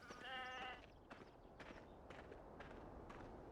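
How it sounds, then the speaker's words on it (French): A sheep bleats in a quavering call near the start of Farming Simulator gameplay, followed by soft footsteps and faint rustling. "Oh, ils sont trop mignons, les petits moutons."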